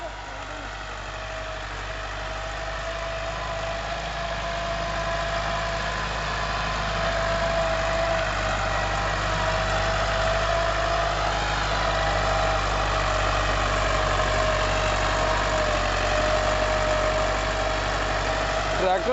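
A Belarus tractor with a 2019-model original engine idles close by, a steady, continuous low rumble with a faint whine that slowly grows slightly louder and holds even throughout.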